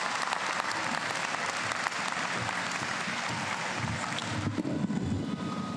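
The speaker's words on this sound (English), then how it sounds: "Let's give a warm round of applause to welcome Kiara Rosario to" A commencement audience at a community college applauds to welcome a speaker to the podium, a broad, continuous roar of many hands clapping, steady and full throughout, with a slight murmur of crowd beneath.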